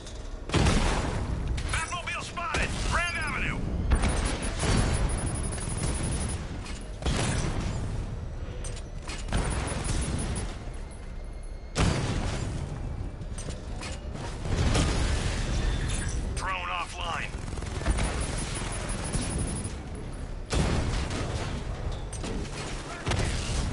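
Tank battle in a Batman video game: repeated booming blasts, shattering impacts and mechanical clanks in bursts, loud and continuous throughout with no talking.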